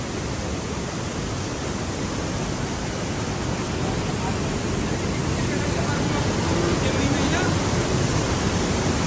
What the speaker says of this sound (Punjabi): ਇਹ ਆ ਲੋਰ ਫੋਰ ਰੌਲਾ ਸੁਣੋ ਇਹਦਾ ਅਜੇ ਤਾਂ ਬਰਫ਼ ਜੰਮੀ ਹੋਈ ਆ